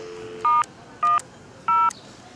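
Touch-tone dialing on a pay phone at the Staten Island Ferry Terminal: three clear, loud dual-tone beeps pressed at an even pace, each lasting a fraction of a second, over faint background hiss.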